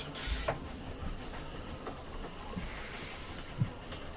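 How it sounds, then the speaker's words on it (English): A moving train rolls on in a tabletop fantasy role-playing game, a steady low rumble with faint clatter and a couple of brief knocks over 4 seconds, fairly quiet throughout. "train moves."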